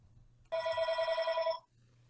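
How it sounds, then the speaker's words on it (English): A telephone bell rings in one steady, continuous burst lasting about a second, moderately loud over a quiet low hum in a room where Torah study is underway. "I don't know whose phone that is"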